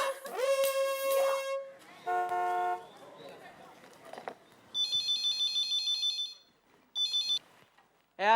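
A telephone rings in a Hindi TV sitcom scene, sounding as a run of electronic tonal ring bursts in separate groups with brief pauses between them, fairly loud and near, mixed with a short melodic tune at the start.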